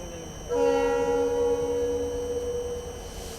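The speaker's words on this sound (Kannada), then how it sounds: "ಟ್ರೈನ್ ಬಂತು ನೋಡ್ರಿ." A WDG4 diesel locomotive sounds its horn, a loud sustained multi-tone blast that starts abruptly and holds for several seconds over the steady rumble of the train, with no talking.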